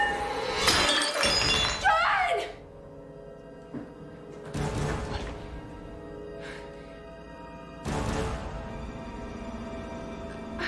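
Crockery and glass dishes smash in several loud, sharp crashes, two bursts close together at the start and more breaks a few seconds apart, with scattered clatter and voices between them.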